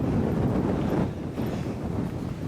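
Steady, loud wind buffeting the microphone on a hike toward Aviemore in the Scottish Highlands, a broad roaring rush with a brief lull partway through, no voices.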